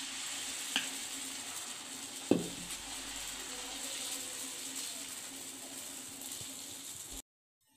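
Masala dosa batter sizzles on a hot pan with a steady, fairly quiet frying hiss, a few faint clicks and one clear knock, then it cuts to silence at the end.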